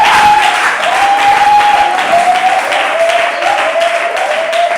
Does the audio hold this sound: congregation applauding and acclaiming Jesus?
yes